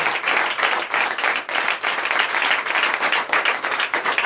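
A church congregation at a Friday night deliverance and prophecy service claps and applauds loudly and continuously in a dense crowd wash, with faint voices mixed in.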